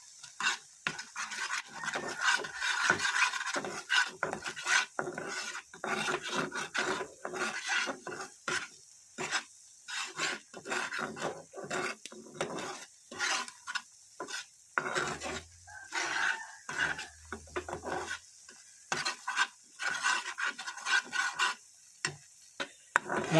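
Spice masala mixed with a spoonful of sour yogurt being stirred in a pan for palak paneer, a busy run of close, rasping spatula scrapes against metal in uneven bursts over a faint sizzle.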